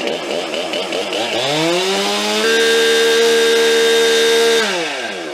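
A STIHL MS261 petrol chainsaw revving hard at about 1.5 meters, a loud buzzing whine that climbs in pitch, holds at full throttle for a couple of seconds, then drops back.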